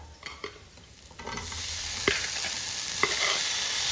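Boiled koorka (Chinese potato) tumbles into a spiced pan with a few clicks and knocks, then a close sizzle swells and holds, punctuated by light scraping stirs.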